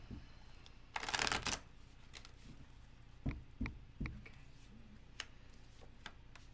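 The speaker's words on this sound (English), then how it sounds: "One more shuffle." A quick riffle of tarot cards being shuffled, followed by a few soft taps and clicks against a quiet background.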